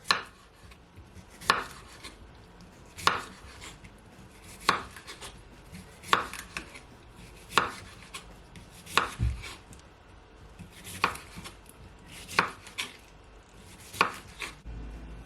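A knife chops through cucumber onto a cutting board in a steady series of sharp, close thuds, roughly one every second or so, with no talking.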